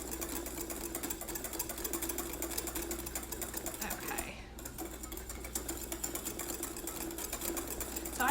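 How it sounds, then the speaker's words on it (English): A whisk beats sabayon (zabaione) for tiramisu in a bowl with a rapid, steady scraping rattle that continues throughout, close and moderately loud over a low background hum. "3 more minutes of whisking"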